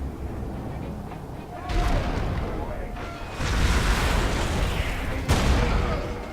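Bolter gunfire in the Warhammer 40,000 Space Marine video game, loud bursts of rapid booming shots and blasts that swell and fade, with a sharp crack near the end, close and dense.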